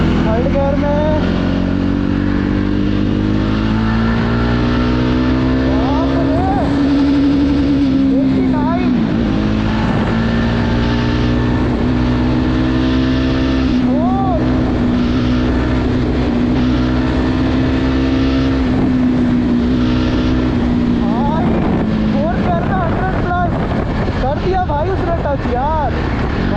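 A Jawa 42 Bobber motorcycle engine pulls hard in third gear, a loud steady drone rising in pitch through long stretches with wind rush, while a rider talks over it throughout.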